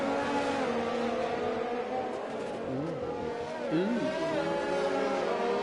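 Race cars run side by side near the pit exit at Abu Dhabi in a racing video game, their engines buzzing and rising in pitch through several gear changes, steady and fairly loud.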